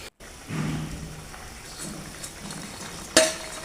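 Fried fish slipped into a pan of simmering curry, a soft splash followed by low bubbling and sizzling, then a sharp clink of a utensil against the pan near the end, close and without talking.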